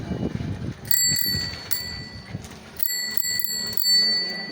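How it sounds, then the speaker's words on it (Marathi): Bright metallic rings from the bell on a child's new red and green bicycle, several quick dings spread across a few seconds over quiet background. "घंटी कशी वाजते बघू सायकलची"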